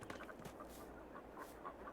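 Chickens in the Farming Simulator 22 video game, on the Bucks County, Pennsylvania farm map, cluck softly in a busy, overlapping stream against a steady background hum.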